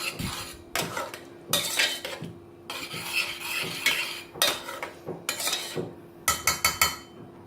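A spoon stirs cooked dal with chopped green coriander in a metal pot, giving close, rhythmic scraping strokes and clinks in bursts with short pauses between them. No one speaks.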